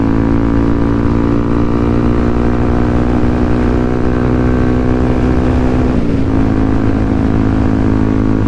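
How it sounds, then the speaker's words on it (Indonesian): Loud, steady exhaust drone from a Yamaha WR155 motorcycle riding at night, a continuous rumbling engine note held close and constant with a brief pitch dip midway, no voices. "Gila, knalpot gua kencang banget suaranya."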